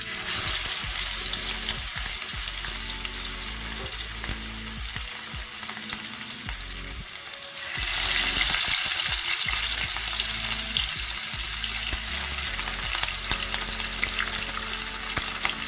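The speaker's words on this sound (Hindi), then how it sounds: "अब हम इसमें फिश को शैलो फ्राई करेंगे।" Fish shallow frying in hot oil in a pan gives a loud, continuous close sizzle with fine crackling, which swells brighter about halfway through and keeps going without speech.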